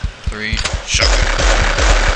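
A shotgun fires repeatedly in the zombie shooting game Marksman, sounding as a loud rapid series of close blasts after a short voice, continuing under game noise.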